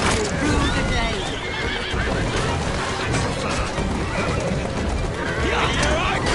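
Horse-drawn carriages in the video game Assassin's Creed Syndicate, with horses whinnying and hooves clip-clopping amid a dense, loud continuous rumble of wheels and street action, overlaid by talking voices throughout.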